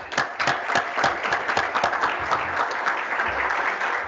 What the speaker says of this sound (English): Can we get another round of applause for the panelists?